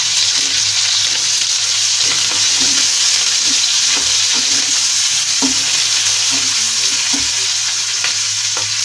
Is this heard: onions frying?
yes